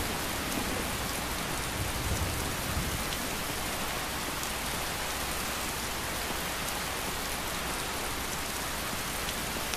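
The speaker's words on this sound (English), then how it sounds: "it is really coming down. We are going to get kind of cold, I think, if we're out here in this rain too much." Heavy rain pours down in the open-world video game Skyrim, a dense, steady hiss of falling water with no breaks, loud and enveloping for the whole stretch.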